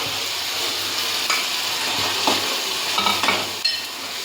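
Fried paneer stirred into fried masala in a pan, a steady loud sizzle broken by a few spatula knocks and scrapes against the metal.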